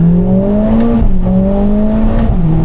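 A Mercedes-AMG A45 S hot hatch engine pulls hard under full acceleration, heard loud from inside the car, with the rising tone dropping briefly at each quick upshift.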